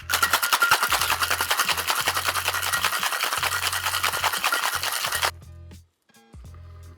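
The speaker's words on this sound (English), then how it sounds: "give it a good solid shake with this one to mix up the egg with the sugar and the brandy" A cocktail shaker holding egg, sugar and brandy is shaken hard in a fast, steady rattling rhythm for about five seconds, then stops, followed by a few quieter knocks.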